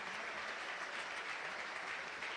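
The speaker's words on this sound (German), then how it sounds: "Applaus von den Rängen" Steady applause rises from the stands of a football stadium during a Fortuna Düsseldorf versus VfL Bochum friendly, a broad continuous patter of many hands clapping at a distance.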